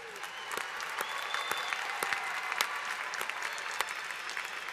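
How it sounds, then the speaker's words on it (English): Applause from the audience at the University of Michigan-Dearborn 2017 commencement ceremony, steady dense clapping from a large crowd heard at a distance, fairly quiet and continuous throughout. "I think another round of applause is in order."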